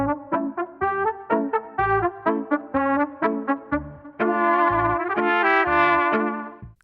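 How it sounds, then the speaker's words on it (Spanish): Trumpet sample from a song, played back in Ableton: a run of short bright brass stabs in a bouncy rhythm, then a longer sustained phrase rising toward the end, loud and alone with no talking. "Pasamos al sample de trompeta."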